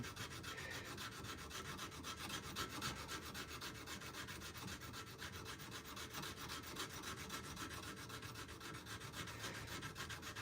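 Sanding sticks rub back and forth across a wooden knife handle, giving a faint, even scratchy rasp that repeats in quick strokes for the whole stretch, with no voices.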